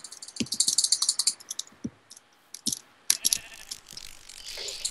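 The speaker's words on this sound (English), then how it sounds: "Sorry, I'm killing goats." Goats bleat in a fantasy survival video game as they are killed with magic, with several short cries mixed with quick keyboard clicks and taps, fairly close and without talk.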